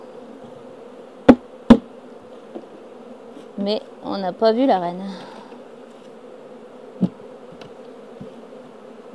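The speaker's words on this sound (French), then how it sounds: "on fait redescendre toutes les abeilles qui se trouvaient dans la ruchette" Honeybees buzz steadily in the background during a swarm transfer into a hive, with sharp knocks and a person briefly speaking over the hum.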